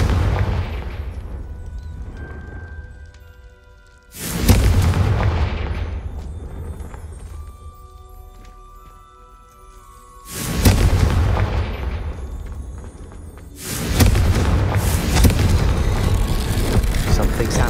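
Confringo blasting spells in Hogwarts Legacy burst into three loud, close explosions. Each one is a sharp hit that rolls into a long, roaring tail, and quieter ambience with faint tonal hums fills the gaps between them.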